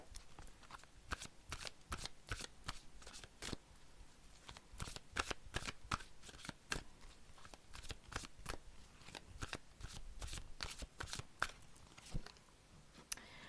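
Tarot cards shuffled and handled in a hand, a rapid run of crisp riffling clicks and flicks close up, steady and dense throughout with no talking.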